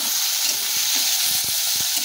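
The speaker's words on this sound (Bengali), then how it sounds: "লবণ দিয়ে পেঁয়াজটাকে ভালো করে একটু ভেজে নেব লাল লাল করে।" Onions fry with salt in a pan for a chicken dish, a loud, steady close-up sizzle with a few muffled stirring knocks underneath and no talking.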